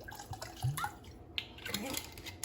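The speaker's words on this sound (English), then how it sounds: "Adding your liquor." Liquor being poured into a coquito (Puerto Rican eggnog) mixture, heard as faint, intermittent splashes and drips against light background noise.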